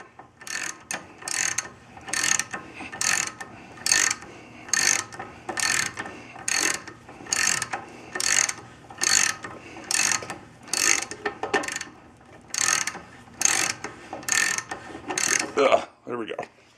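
Hand ratchet tightening a castle nut on the wheel hub of a 1976 Jeep Cherokee during hub and rotor repair, with a long series of regular, evenly spaced clicking strokes, close and fairly loud, and no talking.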